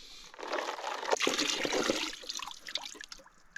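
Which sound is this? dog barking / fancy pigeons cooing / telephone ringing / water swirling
water swirling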